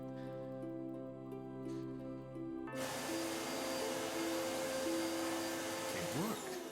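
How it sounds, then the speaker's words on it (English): A steady whirring vacuum cleaner from the video game GK20 switches on partway through and keeps droning loudly, with a low game tone beneath it and a faint voice before it starts. "The holy vacuum cleaner."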